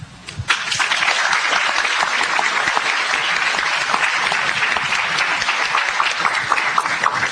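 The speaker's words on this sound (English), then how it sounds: "One more round of applause for those 5 folks." Loud, steady applause from a sizeable crowd, continuous clapping that swells in quickly and holds for several seconds.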